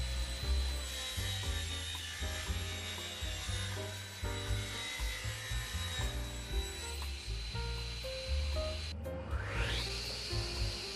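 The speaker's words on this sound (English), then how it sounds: "Machining some pine for the corbels. Closing it up now, so I get a nice square edge. And cutting it to size." Pine timber being machined and cut to size for corbels, a busy mix of whining machine tones and rough rubbing cutting noise, ending with a rising whine as a blade spins up, no speech.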